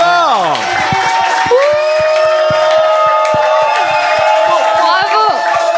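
Live audience at a French show cheering, whooping and clapping, with excited voices rising and falling over scattered claps, loud and close.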